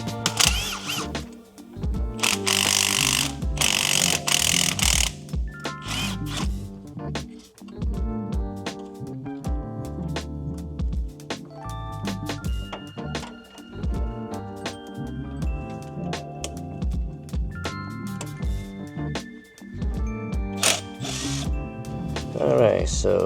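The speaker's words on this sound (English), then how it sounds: "We're gonna unbolt that, and we're gonna go ahead and detach that from a transmission case." A ratchet clicks in quick, repeated bursts up close while unbolting the shift cable from the transmission case of a 2001 Honda Prelude with an H22 VTEC engine, with short pauses between runs.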